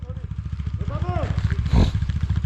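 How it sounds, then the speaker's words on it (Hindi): A motorcycle engine chugs in rapid, even pulses while being pushed up a steep mountain road in Spiti Valley, India, with people talking and shouting over it and a sharp burst of effort near the end. "धक्के मार के बाइक चढ़ानी पड़ रही है"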